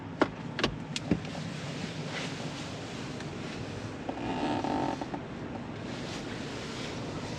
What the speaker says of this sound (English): It's so weird driving an electric car.